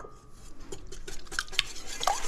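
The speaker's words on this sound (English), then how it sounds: "We'll gently whisk this until it comes together." A whisk moves gently through flan custard mixture flavoured with almond essence, giving soft, irregular clinks and light liquid sloshes against the bowl, close and moderately quiet with no talking.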